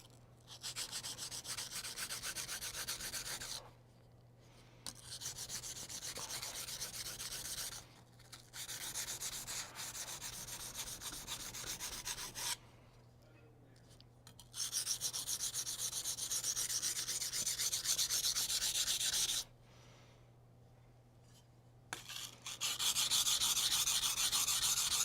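A chipped kitchen knife is rubbed back and forth on a sharpening stone in long, steady grinding strokes, broken by a few brief pauses between passes, close and fairly loud with no talking.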